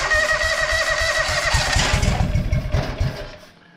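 A John Deere 425 lawn tractor engine cranks and catches, chugging in a fast uneven rhythm for a few seconds, then cuts out and falls quiet.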